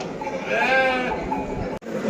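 A goat bleats at a crowded livestock market in Göksun, giving one loud, drawn-out, wavering call close by over a low background murmur.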